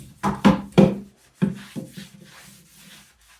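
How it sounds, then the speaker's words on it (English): A bathtub being scrubbed by hand: several short, close rubbing strokes, the first few louder and the rest softer and trailing off, with no voices. "So I'm gonna finish scrubbing this tub."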